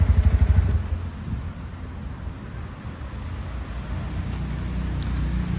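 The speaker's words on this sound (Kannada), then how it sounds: "ಸೊ NS 200 ಕಂಪೇರ್ ಮಾಡಿದ್ರೆ ಈ ಸೌಂಡ್ ಏನೇನೂ ಇಲ್ಲ, ತುಂಬ ಸ್ಮೂತ್ ಇಂಜನ್ ಆಗಿರುವಂಥದ್ದು." A 2024 Bajaj Pulsar NS160 motorcycle engine running close by, a smooth, steady low rumble that starts with a brief rhythmic throb and then settles into an even idle drone.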